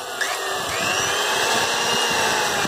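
An old Japanese-market Hitachi 240W power drill, rated at 2200 rpm, runs steadily close by with a smooth, even motor whine and no talking over it.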